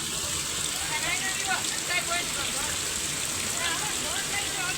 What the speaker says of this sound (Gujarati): હમણાં વરસાદ જ એટલો આવી ગયો